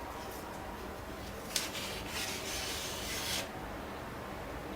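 A scrap piece rubbed across a model aircraft build to wipe off excess, a soft dry rasping close by, rising in two brief strokes over a steady hiss.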